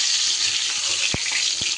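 Pointed gourd (potol) slices frying in a covered pan for doi potol, a steady close sizzle running throughout with a couple of soft knocks from a spatula.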